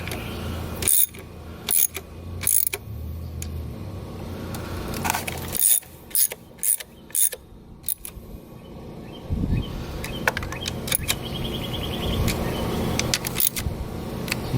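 Wrench tightening valve cover screws on a Ford Fusion 2.3L DOHC engine, with sharp metallic clicks and clinks in scattered bursts, close up, among quieter handling noise.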